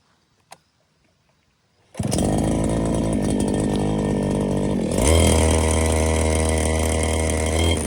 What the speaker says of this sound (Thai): เดี๋ยวจะหมุนเครื่องตัดหญ้าครับ